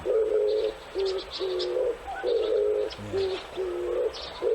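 An oriental turtle dove's low, rhythmic cooing repeats steadily, with faint higher bird chirps in the background.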